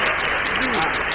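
An audience claps along during a devotional song with dense, continuous clapping, while a voice carries over it.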